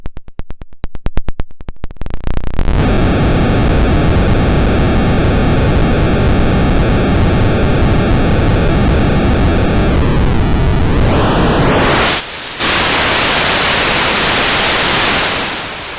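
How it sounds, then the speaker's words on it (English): A loud, steady hiss of white noise from a modular synthesizer fills the clip after a brief burst of buzzy clicks, then sweeps down and cuts out briefly before resuming. "So there's our white noise."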